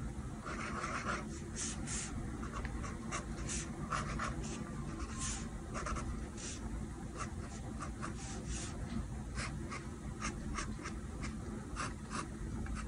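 A pencil scratches and rubs on paper while drawing the underside of a figure's feet, close and soft, in steady strokes with short quicker scribbles and occasional sharper ticks.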